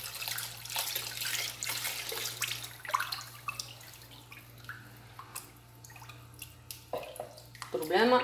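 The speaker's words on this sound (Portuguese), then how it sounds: "Álcool, você pode colocar o etanol, que é o que eu tô colocando." Ethanol is poured into a homemade soap mixture made with bleach, giving irregular trickling and dripping liquid sounds with a few clinks, under a steady low hum and with a voice talking nearby.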